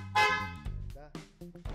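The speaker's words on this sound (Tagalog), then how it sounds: "Tapos, horn." Horn of a Honda ADV 175 scooter, sounding in a few short, loud, close honks in quick succession.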